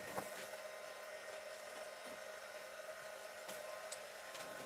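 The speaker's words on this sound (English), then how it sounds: "while I wait for my heat tool to warm up" An embossing heat tool runs as it warms up, giving a steady, faint blowing hiss with a thin whine that holds level throughout, with no speech.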